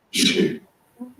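A single sharp sneeze bursts out up close, followed by a brief low voice murmuring.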